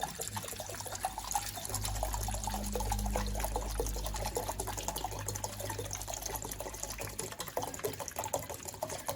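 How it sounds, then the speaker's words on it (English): About a liter of 70% alcohol is poured into a container already holding some liquid, a continuous close splashing and gurgling stream with a low resonant fill tone that rises and then settles, with no talk. "I'm going to now add a liter of alcohol"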